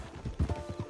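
Horse hooves clip-clop in Red Dead Redemption, a short run of soft rhythmic thuds at moderate distance over a low ambient bed.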